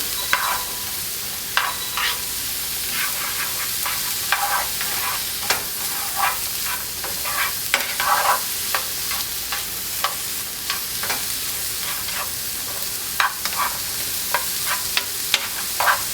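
Two small chopped onions sauté steadily in a pan for a few minutes. The sizzle is continuous and fairly loud, punctuated by frequent scraping and tapping of a stirring utensil, with no voices.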